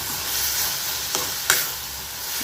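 Onions and tomatoes sauté in a pan, giving a steady broadband sizzle with two brief scraping stir clicks and no talk.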